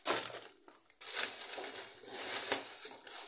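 A plastic bag of breadcrumbs crinkles and crunches as groceries are unpacked, with close, continuous rustling and a few sharper crackles and no talking.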